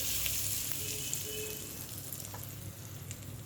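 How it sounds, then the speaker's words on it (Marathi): Hot tempering of mustard seeds and cumin poured over asafoetida sizzles in a steady, close, fairly quiet hiss with faint crackles, heard alone without speech. "आता ही जी फोडणी आहे ती या हिंगावर अशी घालून घ्यायची आहे"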